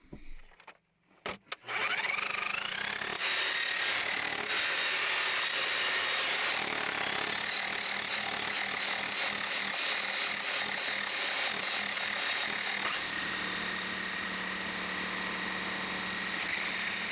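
Rock drill boring holes into hard rock inside an off-grid hand-dug tunnel, a loud continuous grinding, rattling drone starting after a brief pause and running steadily to the end with no voices.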